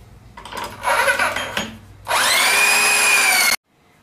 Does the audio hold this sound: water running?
no